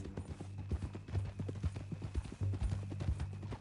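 Horse hooves in the Red Dead Redemption 2 video game clop at a steady walking rhythm, a soft, close series of muffled thuds with no speech over them.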